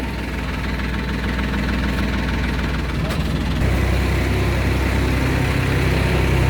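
Loud, steady diesel tractor engine chugging nearby on the way to a village field, with a rhythmic knocking throb that continues without a break.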